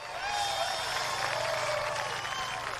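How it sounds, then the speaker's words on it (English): A grandstand crowd at a sprint car nationals event for 360 drivers applauds and cheers in a dense, steady wash of clapping and noise that fills the whole stretch. "A big round of applause for all of our 360 drivers here this weekend."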